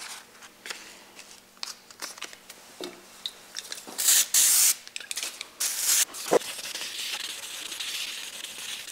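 An axe head hand-sanded with 2500 grit sandpaper, with light scratchy rubbing strokes that swell into loud hissing scrapes midway, then settle into a steady, softer rasp.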